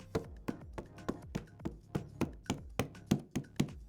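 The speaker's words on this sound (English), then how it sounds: "you have to knock on the watermelon, and you're listening for a deep hollow sound." Knuckles knock on a watermelon rind in a steady run of about a dozen sharp, hollow thuds, roughly two per second, close and clear with no talking.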